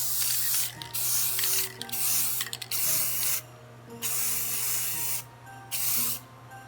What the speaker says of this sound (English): I'm just going to put a few light coats of this gloss, and then I'll finish it up with either a satin or a flat